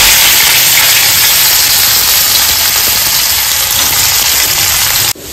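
Onions dropped into hot oil in a wok already holding fried dried red chillies, a loud, dense, continuous sizzle with a hissing steam-like wash that runs steadily before abruptly dipping near the end.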